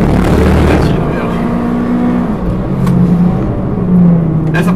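A Mitsubishi Lancer Evo X with 340 horsepower roars continuously on a race track, its loud engine drone rising and holding under someone talking over the noise.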